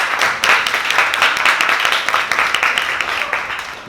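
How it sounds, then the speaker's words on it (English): A class of Year 1 children claps together in a classroom, a brief burst of fairly loud, dense clapping that fades slightly toward the end. "Give them all a clap."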